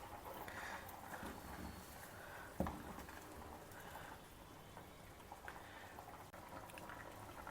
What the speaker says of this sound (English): Allow it all to boil well together.